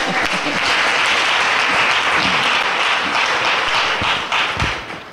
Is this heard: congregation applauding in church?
yes